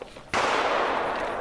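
A single loud shotgun blast at clay targets on a shooting range in Elk Neck State Forest bursts in close and sharp, then rings out in a long echoing tail.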